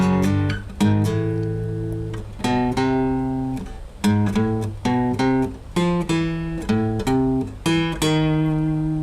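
A tune on guitar, a short section of plucked single notes in a stop-start phrase, each note ringing and decaying before the next, played close and clear with no voice.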